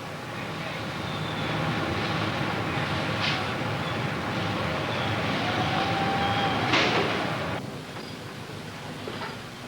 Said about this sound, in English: Rows of blister copper anodes roll out on specially built railroad cars